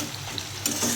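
A bay leaf drops into hot oil in a pan of chicken being cooked, and a close, crackling sizzle flares up partway through, with light stirring. No one talks.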